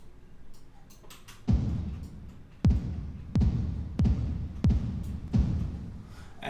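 Hardstyle hall kick drum drenched in huge reverb, five heavy booming hits at an uneven pace, each with a long wash of reverb tail, loud and alone with no voices.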